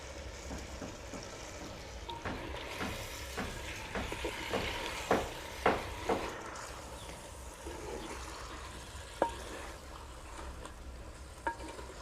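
Fried potatoes are stirred into chicken curry sizzling in a clay pot. A run of rhythmic spatula scrapes and knocks sounds over a constant low frying hiss, with a few sharper clinks later.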